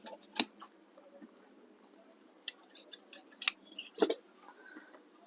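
Scissors snip through blouse fabric while cutting out the sleeves, a few sharp close cuts standing out from a quiet room, with softer fabric rustles between them.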